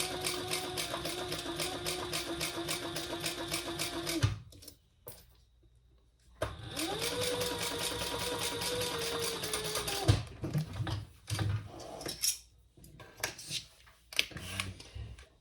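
A sewing machine top-stitches a seam on a crossbody bag in two steady runs of rapid rhythmic needle clatter separated by a pause, followed by scattered clicks and fabric handling.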